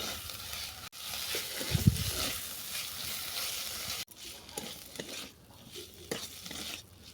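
Bottle gourd greens are stir-fried in a pan, producing a quiet sizzle under repeated stirring scrapes and soft knocks of a utensil against the pan, close by, with two brief dropouts.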